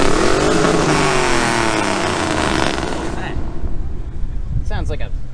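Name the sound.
car engine revving at a car meet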